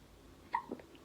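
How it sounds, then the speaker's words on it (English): A baby gives a single soft hiccup, quiet and close, with faint breathing around it. "You got the hiccups?"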